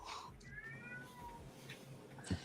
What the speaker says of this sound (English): The cat, it's so cute.